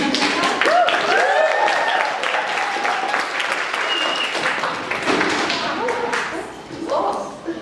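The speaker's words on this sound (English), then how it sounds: "Please, clap." An audience claps and applauds steadily throughout, with voices talking and calling out over the clapping as it carries on and then thins slightly toward the end.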